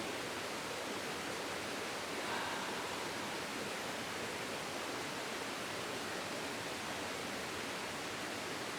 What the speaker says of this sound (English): hopefully you can hear the water in the background because I can